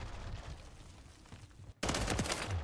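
FJ Horus weapon fire in Call of Duty: a soft, muffled stretch gives way to a sudden loud burst of close shots that continues to the end.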